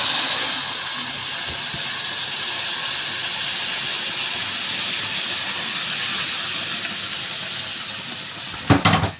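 Hot sugar syrup poured into hot roasted semolina for halwa, producing a sustained steamy hiss that fades gradually, ending with a few sharp clinks of a utensil, no talking.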